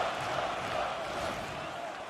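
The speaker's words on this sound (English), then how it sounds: "I hate how loud the crowd is." A broad, steady roar of crowd noise in the video game UFC 3 fills the whole stretch, loud and continuous with no distinct voices standing out.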